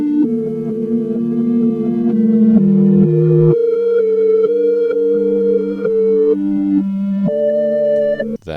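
A reversed synth lead melody plays alone, sustained tonal notes swelling and stepping between pitches in a smooth, backwards-sounding line, loud and steady throughout with no talking.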